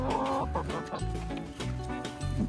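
Backyard chickens, including a broody hen, cluck steadily in a busy, close chorus of short repeated calls that goes on without a break, with no talking.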